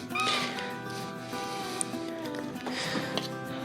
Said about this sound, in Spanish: Este gatito está llorando cada rato.